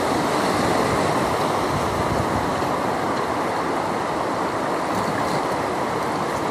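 River water rushing and waves slapping on the Hoh River during a steelhead fishing trip, a dense, constant roar of flowing water heard up close and loud, with no talking.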